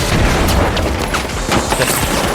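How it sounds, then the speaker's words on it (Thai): Heavy explosions and gunfire boom in the shooter game The Finals, loud, dense and continuous blasts close up. "โอ้โอ้ระเบิดระเบิดระเบิดตาย"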